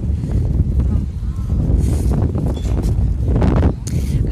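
Gusty wind at a warm beach buffets the microphone in low, rumbling bursts, steady throughout with brief swells, with faint rustling behind it.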